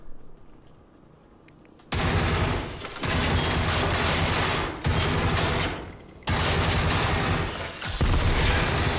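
Heavy automatic gunfire from the video game Generation Zero comes in long, loud sustained bursts that break off briefly and resume, starting after a quieter opening moment.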